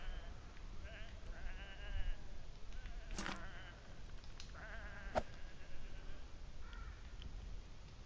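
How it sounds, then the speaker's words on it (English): Sheep bleat in the Nintendo Switch game Whateverland, several calls scattered over a steady ambient bed, with a crow-like caw and a brief sharp accent partway through, no talk over them. "Come on, these are just sheep."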